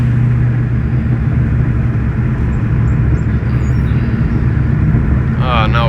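Terminator Cobra engine with a Bassani/Magnaflow exhaust rumbling loud and deep from inside the moving car, a steady low drone throughout.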